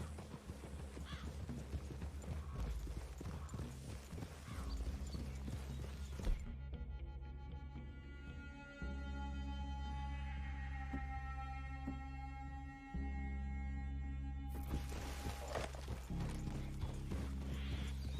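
Horse hooves clip-clop in the Red Dead Redemption II video game, a steady rhythmic clatter of several riders close by. A low musical drone and sustained tones swell through the middle of the passage.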